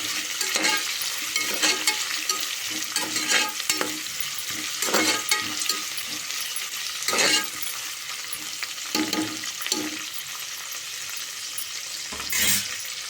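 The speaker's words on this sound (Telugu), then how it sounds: "లవంగాలు వేసుకొని ఇలా రోస్ట్గా అయ్యేటట్లు వేసుకోవాలండి" Whole cloves roasting in hot ghee in a pan for vegetable biryani, with a steady, bright sizzle and crackle running throughout and occasional louder stirring scrapes against the pan.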